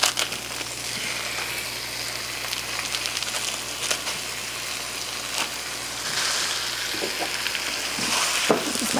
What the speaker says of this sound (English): Now we'll get this beef browned up as well